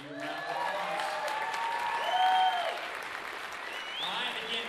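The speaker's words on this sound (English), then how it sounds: "Give him a round of applause." Crowd applause at a Scottsbluff Bearcats high school victory rally, a steady wash of clapping that swells briefly in the middle, with cheering voices and talk mixed in.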